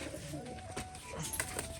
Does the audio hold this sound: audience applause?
no